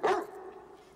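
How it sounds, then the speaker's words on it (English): A dog lets out one sharp bark up close, quickly fading into a short ringing tail. "And dogs bark."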